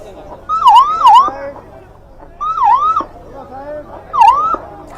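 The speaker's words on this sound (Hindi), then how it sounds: "एम्बुलेंस की आवाज हम सुन पा रहे हैं" An ambulance siren sweeps up and down in three separate bursts, fairly close, over a low background murmur of crowd noise outside a tunnel rescue site in Uttarkashi.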